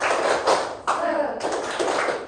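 A group claps hands together in quick bursts of rhythmic clapping, with a brief pause between bursts.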